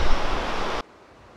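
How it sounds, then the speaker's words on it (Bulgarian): Rushing river below a mountain footbridge near Bansko in the Pirin mountains, a steady broad wash of flowing water that cuts off abruptly partway through, leaving near silence. "и долу ни е реката."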